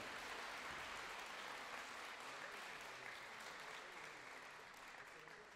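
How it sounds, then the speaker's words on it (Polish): A crowd applauds at a Polish Independence Day anniversary ceremony in Lipusz, with dense, steady clapping that holds throughout and slowly tapers near the end. "Poprosimy o klaski dla nich."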